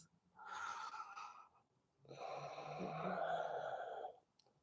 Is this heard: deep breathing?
yes